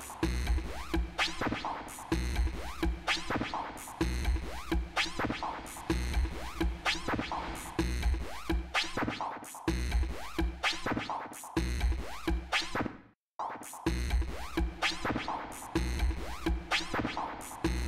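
A rhythmic electronic music loop with punchy drums and bright textures runs through the Spacelab Ignition immersive 3D reverb plugin on its medium bright preset, playing continuously with a short dropout near the end.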